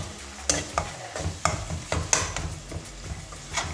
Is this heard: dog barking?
no